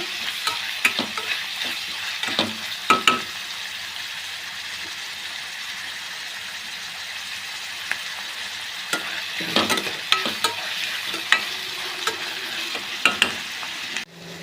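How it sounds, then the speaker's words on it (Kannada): Onions frying in oil in a pan, a continuous close sizzle broken by frequent sharp clatters and scrapes of a spatula against the pan, with no talking. "ಈರುಳ್ಳಿ ಸ್ವಲ್ಪ ಫ್ರೈ ಮಾಡ್ಕೊಳ್ಳಿ ಆ ಹಸಿ ಸ್ಮೆಲ್ ಹೋಗೋವರೆಗೂ ಇದನ್ನು ಫ್ರೈ ಮಾಡಿ"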